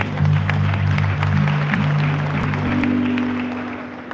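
Audience applause at the Zik's Lecture Series, a sustained wash of clapping from a crowd lasting the full few seconds over a low steady tonal hum, with no speech.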